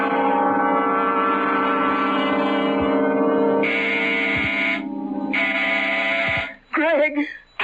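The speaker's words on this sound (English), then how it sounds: "When Sandy pushes that door buzzer, listen to it carefully, Florence." A door buzzer sound effect in a radio mystery drama rings out in two long, loud electric bursts, set over a steady droning music bed, with a voice speaking briefly at the end.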